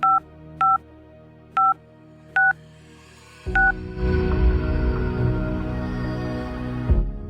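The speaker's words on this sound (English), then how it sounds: "she picked up a telephone laying on the table and dialed a number." A telephone number is dialed on a table phone, five short two-tone DTMF beeps spaced about a second apart, followed by a dense rumble of background noise that continues to the end.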